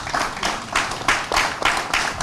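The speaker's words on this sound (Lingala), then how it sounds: "Est-ce que nous pouvons applaudir?" An audience at a televised panel broadcast applauds in uneven bursts of clapping, close and fairly loud, with no speech over it.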